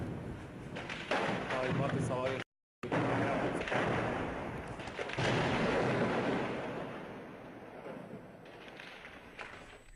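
Heavy gunfire and explosions during shelling of Homs, heard as a continuous rumbling barrage with repeated thuds and bursts, loud and fairly close, with a brief dropout partway through.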